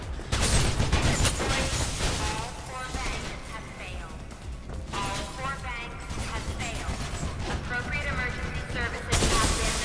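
Enemy gunfire in the video game Mirror's Edge, loud bursts and crashing impacts mixed with game music and action noise, while someone talks over much of it.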